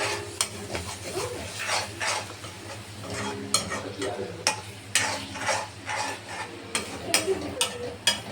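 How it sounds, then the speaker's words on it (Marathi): Eggs for egg bhurji are stirred and mixed in a pan, Konkani style, with a soft sizzle under repeated sharp scraping and clinking strokes, close and quiet. "अंडी आता मिक्स करत आहे"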